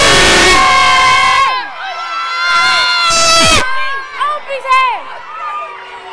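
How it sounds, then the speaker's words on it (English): Crowd of young footballers from a girls' football club at a Saint Patrick's Day parade in Balbriggan, cheering and shrieking loudly up close in overlapping bursts that trail off into scattered shouts. "Give us a cheer there, boys."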